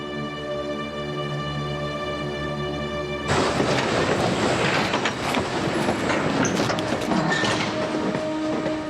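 A deportation train leaves Paris in August 1944. After a sustained tonal drone, a loud, rumbling rush of rolling rail noise suddenly swells in and continues with clatter and faint metallic squeals.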